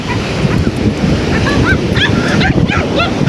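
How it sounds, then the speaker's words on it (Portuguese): A large dog barks several times at a distance over a steady roar like surf or rushing wind on a beach at Atafona, Brazil. "Tem um cachorrão ali, rapaz."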